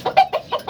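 A white sweater breed rooster gives four quick, close clucks in an even rhythm, with no other sound around them.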